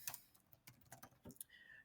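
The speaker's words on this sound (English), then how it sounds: "whenever I type something into this input box over here" Keys tapped on a computer keyboard while entering a location into a website input box, a few faint, irregular clicks spaced apart in a quiet room.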